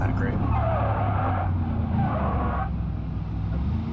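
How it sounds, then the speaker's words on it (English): Car tires lock up and skid in BeamNG.drive, a loud sustained screech over a steady engine drone that eases off as the car slows for a corner. "Lock up the tires or the brakes on them"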